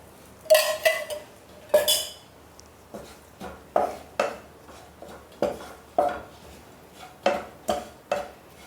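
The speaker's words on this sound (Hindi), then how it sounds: "तो थोड़ा सा इस मसाले को हम 3-4 मिनट भून लेंगे ताकि बेसन अच्छे से भुन जाए।" A spatula stirs and roasts besan masala in a pan for ridge gourd curry, making about a dozen evenly spaced scraping clinks close by with short pauses between strokes.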